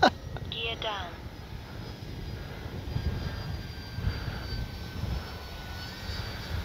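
An Arrows RC Corsair model airplane makes a faint, distant drone as it flies a speed run high overhead, with a thin whine trailing off. Someone speaks briefly near the start.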